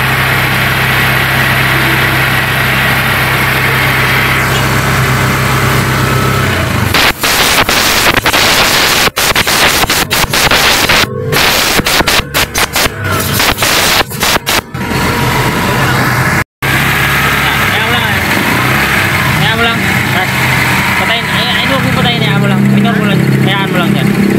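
A Honda Click scooter with an overheating problem idles up close while warming, holding a steady engine hum for the whole stretch, with a spell of clattering, uneven knocks partway through.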